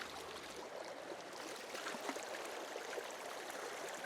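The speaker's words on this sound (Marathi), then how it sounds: "थोडी स्वच्छ करून घेऊया. धुवून घेतली चिलापी." Water flows and splashes in a constant soft wash as a freshly caught tilapia is rinsed outdoors, with no talk.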